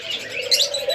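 Doves at a large dove farm, including big grey birds, keep up a close, clear low coo mixed with brief higher chirps from other birds, with no voices.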